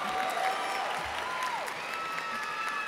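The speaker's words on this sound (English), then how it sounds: "Another pause for a round of applause." Applause from the crowd at a high school graduation ceremony, a soft, distant and steady patter of many hands in a large space, with faint cheering and whistle-like tones drifting over it.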